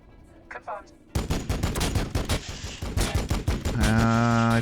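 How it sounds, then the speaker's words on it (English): Bolter gunfire shooting scarabs in the Warhammer 40000 Battlesector video game: after a faint quiet start, a sudden loud burst of rapid automatic shots rattles on, ending in a sustained ringing tone. "I probably need to shoot these scarabs with my bolter"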